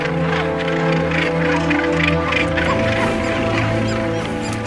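Northern gannet seabird colony at Sept-Îles, Brittany, calling in a dense, continuous chorus of harsh, overlapping honking cries, loud and close throughout with no speech.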